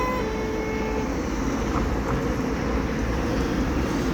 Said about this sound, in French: On regarde un avion, là ça décolle.